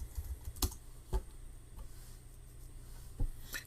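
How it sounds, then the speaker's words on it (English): Keys clacking on a computer keyboard in a quiet room, a few separate sharp taps spaced irregularly with short pauses between them. "go to Google in your favorite browser and type in Tiny Umbrella"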